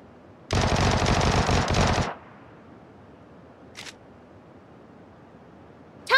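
A Vector submachine gun fires in the Sausage Man video game, letting off a loud, rapid full-auto burst of about one and a half seconds, followed by a brief mechanical click and a short sharp sound near the end.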